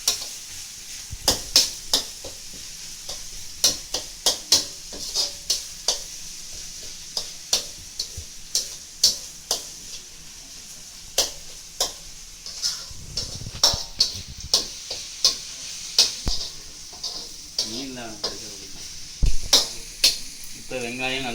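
Onions sautéed in a pan for fish curry, a steady soft sizzle under frequent sharp ladle clicks and scrapes against the pan as they are stirred, close and fairly loud, no talk.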